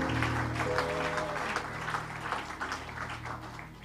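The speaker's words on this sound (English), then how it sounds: "Can we give a hand clap to the Lord Jesus Christ?" A church congregation at a revival service claps together in a steady round of applause over a sustained organ or keyboard chord, moderately loud and gradually fading.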